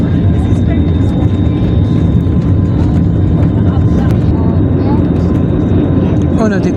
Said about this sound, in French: Voilà, le pilote met les gaz. Nous décollons de la Turquie, d'Istanbul.